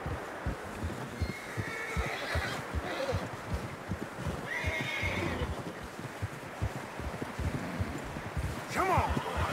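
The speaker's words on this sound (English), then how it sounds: "Horses are struggling." Horses neigh and whinny several times while their hooves thud rhythmically through deep fresh snow in Red Dead Redemption II, with a voice speaking in between.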